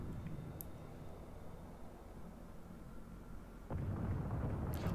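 Torpedo hits exploding against a destroyer in World of Warships, a sudden heavy boom about two-thirds of the way through, rising out of a low, muffled rumble of ambient sea and engine noise.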